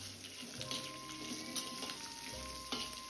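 Onions sizzle in hot oil in a pan for a South Indian sambar, a soft steady hiss with occasional stirring scrapes, close but faint, with no talking.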